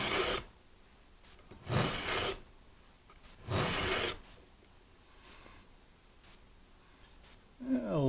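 A Japanese-made stainless steel knife is drawn through a Sharpal 6-in-1 sharpener, giving three distinct rasping strokes with quiet gaps between, followed by lighter scraping.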